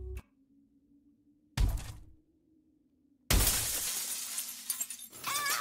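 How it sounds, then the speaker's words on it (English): Window glass shattering in a horror video game, with a dull thunk, then a short crack and a longer, loud burst of breaking glass and scattering shards. "If I break the window, maybe I can escape."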